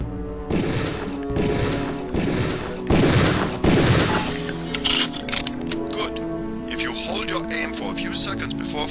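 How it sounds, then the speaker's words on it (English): Pistol shots fired at a practice target in the video game Deus Ex, a few loud bursts in quick succession early on, then quieter mechanical clicks and game sounds with music underneath. "Release the first target and take a few shots with one of the pistols until it is destroyed."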